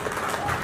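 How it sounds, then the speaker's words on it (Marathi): Loud applause from an audience at a Marathi film trailer launch, a dense steady wash of clapping filling the whole moment, with a voice faintly mixed in. "तर एकदा जोरदार टाळ्या करणसाठी."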